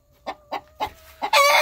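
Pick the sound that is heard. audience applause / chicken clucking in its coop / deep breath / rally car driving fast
chicken clucking in its coop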